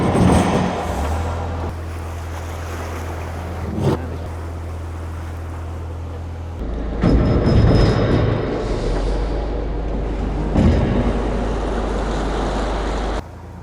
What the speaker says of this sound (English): The prop properly hit something there. Twice.